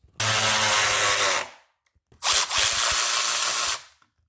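A power tool unbolts the ignition coils on a Ford Focus ST during a spark plug change, with two loud, close whirring bursts of about a second each separated by a brief silence, no talk.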